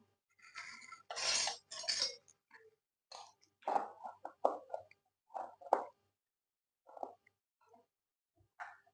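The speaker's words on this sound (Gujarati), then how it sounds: "હવે આપણે લસણ વાળી ચટણી નાખીશું" A spoon adding garlic chutney to a grated bottle gourd and cluster bean dhokla batter, giving close, separate plops, taps and scrapes against the bowl with pauses between them.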